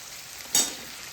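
Capsicum frying in a pan for fish chilli: a brief burst of sizzle rises over a steady background hiss and fades within a second, close and with no voices.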